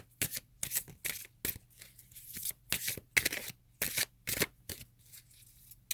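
Oracle cards being shuffled in irregular bursts of crisp riffling and flicking, each few-second run separated by brief pauses, close up and alone against a low steady hum.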